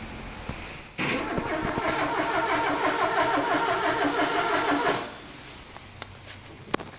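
A Ford Escort XR3i Cabriolet engine cranks briefly, then catches and runs for about four seconds before cutting out, loud and close, with a few small clicks afterward.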